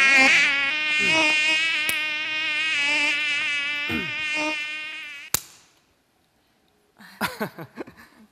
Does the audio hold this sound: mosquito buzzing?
yes